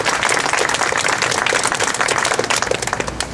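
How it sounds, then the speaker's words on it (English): A crowd applauds at a civic gathering on a bike lane project, steady dense clapping from many hands that holds at an even level throughout, with no talk over it. "Please, a big round of applause for both of them for doing such a great job."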